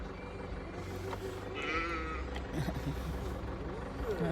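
Goats at a roadside farm bleat over a steady rumble of a parked car and traffic, with one clear wavering bleat midway and fainter calls around it, while someone talks nearby.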